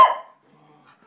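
A single sharp dog bark up close, followed by a quiet stretch with faint low murmurs.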